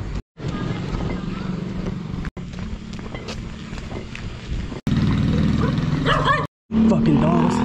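Barking dogs on a neighborhood street at night, heard while a man hurries on foot carrying a backpack of glass beer bottles; the barks and yips come in bursts close by, mixed with his talking, footsteps and rustling.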